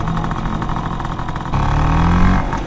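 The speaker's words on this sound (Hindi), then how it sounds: "ये स्कूटर भी गुल्ली का है, फिर स्कूटर चला कौन रहा है?" A scooter engine runs steadily as it is ridden, a buzzing mid-pitched drone that grows slightly louder and rougher halfway through, close by with no talking.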